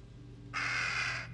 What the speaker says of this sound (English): Crows are bad luck.